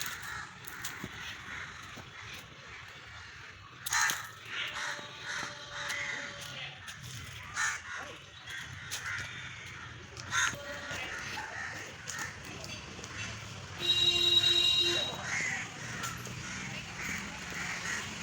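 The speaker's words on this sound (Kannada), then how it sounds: "ಎಷ್ಟು ಕಾಗೆಗಳು ಒದರ್ತಾ ಇದೆ" Several crows caw repeatedly in the evening, some near and some farther off, in irregular bursts over a faint outdoor background, with a louder cluster of calls toward the end.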